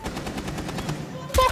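Rapid automatic gunfire in the video game Rainbow Six Siege rattles in a fast, steady burst, ending in a louder nearby blast.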